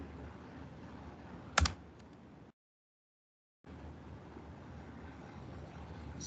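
Keys on a computer keyboard are tapped during a software setup session, a soft, continuous clatter under background hiss with one sharper knock, then a second of silence before the tapping resumes.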